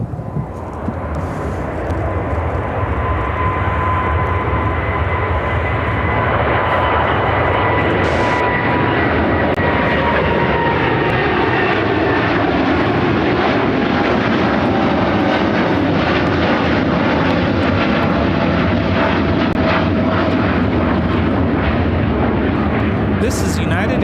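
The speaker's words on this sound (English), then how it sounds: "This is United Airlines 881 taking off to Tokyo Haneda on the 787-10 Dreamliner." A United Airlines Boeing 787-10 Dreamliner takes off from Chicago O'Hare for Tokyo Haneda with a powerful, continuous jet roar, loud and close, holding strong throughout with faint voices briefly underneath.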